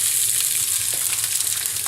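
Raw corn kernels sizzling in hot olive oil in a pan, a loud, steady crackling hiss with dense spattering throughout, close up and with no talking.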